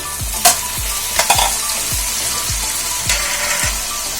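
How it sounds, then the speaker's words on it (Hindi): Mutton and potatoes fry loudly in a pan, a constant close sizzle broken by about seven rhythmic scraping thumps of a spoon stirring through the pieces. "बहुत अच्छे से फ्राई कर लेना है इसे। इसके बाद आलू को ऐड कर देना है,"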